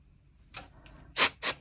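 Two short, crisp hissing bursts of a super glue activator aerosol spray close by, preceded by a fainter puff, in an otherwise quiet space.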